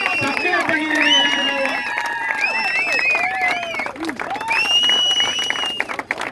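Applause and crowd noise from spectators at a medal tournament, sustained over about six seconds, with shouts and whistling-like tones and voices mixed in over the clapping.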